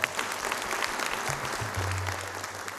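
A crowd at a rickshaw drivers' association ceremony in Maharashtra claps to welcome the drivers and artists, a dense steady applause held at even strength, with a brief low tone sounding underneath partway through.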